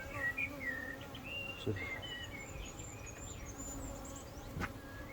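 Honeybees, including a drone, buzzing inside a hive during a colony inspection for swarm cells: a steady, close, overlapping hum throughout, with faint chirps of birds in the background.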